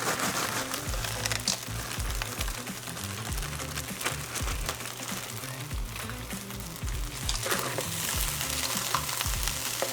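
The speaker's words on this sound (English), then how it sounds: "continue cooking and stirring for another 5 minutes or so" Fried rice with green peas sizzles steadily in a hot pan while a utensil stirs it with repeated scraping and tossing. The frying is loud and close and continues throughout, with no talking.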